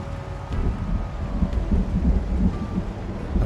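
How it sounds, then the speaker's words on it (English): Thunder rumbles low and heavy over steady pouring rain in the video game Project Zomboid, a deep rolling storm with a few faint sharper ticks, no speech. "now we got the thunder and the lightning as well as the heavy rain"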